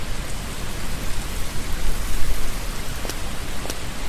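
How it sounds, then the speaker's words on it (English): Steady, dense rainfall in the game Umbrellas Wanted, a broad constant hiss of drops pouring down with a couple of faint sharper ticks near the end, no voices. "This rainfall killed me."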